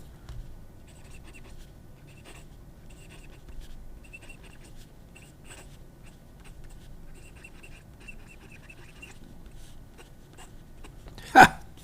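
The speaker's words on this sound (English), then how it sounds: "I will definitely reuse my favorite pen these days, which is the Dieman. Listen to it sing again." Fountain pen nib scratching across paper, a faint continuous scratch heard close up through a lowered microphone, ending in one sharp, brief knock.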